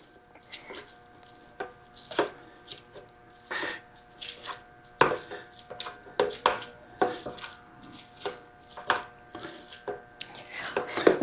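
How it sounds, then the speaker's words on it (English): Ground beef being broken up and browned in a pan for a sloppy joe cornbread casserole: close, irregular squishy scraping and prodding strikes from a utensil that repeat steadily throughout, with a faint sizzle underneath and no talking. "First thing I'm going to do is break it up and get it started browning."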